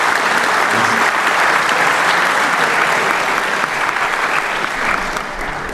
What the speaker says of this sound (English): Please, one big applause for Malcolm speaking.